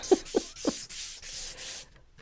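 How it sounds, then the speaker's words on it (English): Hand sanding across a painted wooden surface with the rough side of sandpaper, a series of steady scratchy strokes in a regular back-and-forth rhythm, close and moderately loud, with no voices. "one of the things I do when I'm sanding this is I always work on the horizontal"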